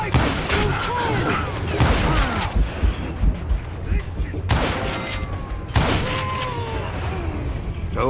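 Gunfire in the Western shooter Call of Juarez: Gunslinger, a steady string of loud gunshots and booms with ricochet whines and dense clatter throughout, with talk over it.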